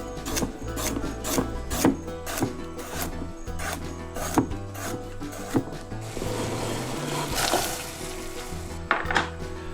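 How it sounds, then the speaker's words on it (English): A knife slices fresh, unpeeled turmeric root finely on a board, giving repeated close, crisp cutting taps in a loose rhythm, followed by a softer scraping stretch. "All you do is slice it finely."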